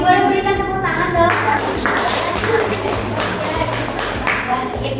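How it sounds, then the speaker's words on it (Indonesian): A small group applauds during a school guidance and counselling session, with scattered hand claps of uneven rhythm, fairly close, some taps louder than others, while a tonal hum sounds at the start. "Boleh berikan tepuk tangan dong."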